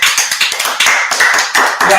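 Dense clapping fills the whole stretch, loud and close, with quick irregular slaps running continuously from start to finish and no talk over it.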